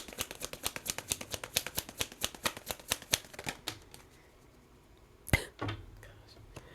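Tarot cards are shuffled in a rapid run of crisp riffling flicks for about four seconds, then a pause and a single sharp slap as one card is drawn or set down, close and clear with no talking.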